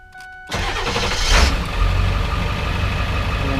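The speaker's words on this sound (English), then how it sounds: "We're going to start the engine and cycle the shift lever up and down through the gears" A 2001 Ford F-250 Super Duty pickup cranks and its engine catches abruptly, roaring up loudly before settling into a steady, close idle.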